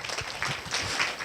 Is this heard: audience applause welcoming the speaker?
yes